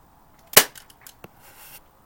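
A revolver-style BB gun fires one sharp, loud crack at a target box during backyard target practice, followed by a few faint ticks and a soft later tap, with no talking.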